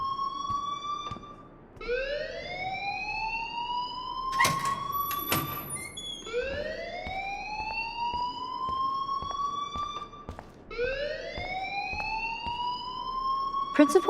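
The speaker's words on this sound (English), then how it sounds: "please turn off that alarm since that's your job" A school alarm in the video game Life is Strange sounds in repeated rising electronic whoops, each sweep climbing in pitch and then cutting off. It is loud and continuous, with a few sharp clicks, and a voice talks over it.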